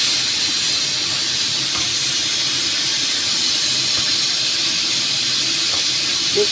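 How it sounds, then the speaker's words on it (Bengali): Mutton with onion, garlic, ginger, tomato and dry spices sizzling steadily in a pan as it is fried down for tarka, a continuous close hiss with no talk. "এবার শুকনো মশলাটা দিয়ে দিলাম এইবার ভালো করে কষানো হবে"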